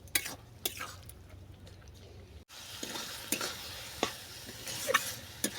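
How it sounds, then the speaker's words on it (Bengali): Fried small fish are stirred briefly in a pan with sugar and moringa flowers, a quiet low sizzle punctuated by sharp, scattered scrapes and taps of the spatula. "আর ভেজে রাখা চুনো মাছ এটাকে অল্প করে নেড়ে ছেড়ে আমি নামিয়ে নেবো"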